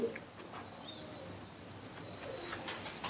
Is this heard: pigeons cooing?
yes